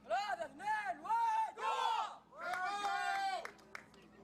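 Saudi Arabian supporters in the crowd at an Asia Cup recurve archery final in Taoyuan roar in loud, rhythmic cheering bursts, with repeated chant-like shouts rising and falling before one longer sustained yell.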